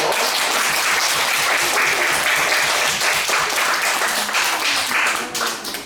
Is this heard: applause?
yes